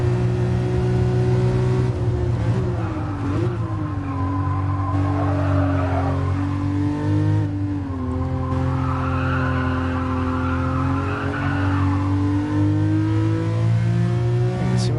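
A car drifting in the GT Sport racing game on very grippy tires, the engine holding a loud, steady drone with pitch swings as it revs, tires squealing in places, with no talk.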